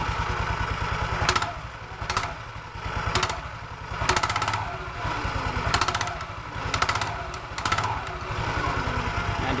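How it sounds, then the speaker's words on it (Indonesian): An automatic scooter engine runs steadily with a dense idle putter while the throttle is opened gently in several short pulls, and a rattling knock from a faulty rear pulley sounds close by with each rise. "udah hidup ya motornya. Selanjutnya kita coba tarik gas pelan-pelan ya."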